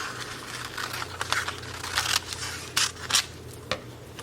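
Scissors snip paper imagery for a collage, a series of short, crisp close cuts in an uneven rhythm over a quiet room.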